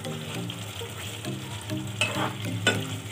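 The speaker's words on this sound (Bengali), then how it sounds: "মাংসটা একদম লো ফ্লেমে করছি এখন" Chicken pieces frying in a pan on a low flame for chicken tehari, a steady close sizzle with intermittent stirring scrapes, no talking.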